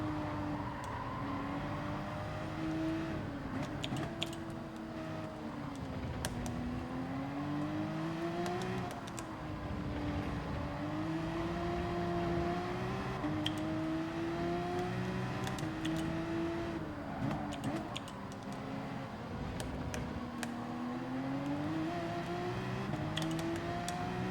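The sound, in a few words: race car driving a lap at Interlagos in video game Gran Turismo 7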